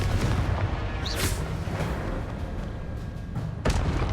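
A Confringo fire blast spell in Hogwarts Legacy goes off as a loud booming burst with a sharp crack, followed by rumbling impacts and a second thud near the end.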